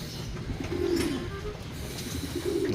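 Racing pigeons in a loft on a cold, rainy night softly coo in low, repeated throaty calls, close and steady over a dull background hum.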